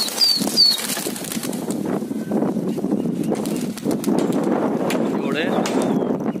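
Pigeons take off with a flurry of flapping wings amid outdoor noise in Okhla, Delhi, while a person talks nearby.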